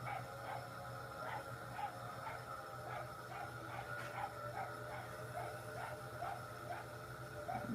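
A dog named Macy barks outside, heard from indoors at a pottery studio: a steady series of faint, distant barks and yips repeating over a constant low hum.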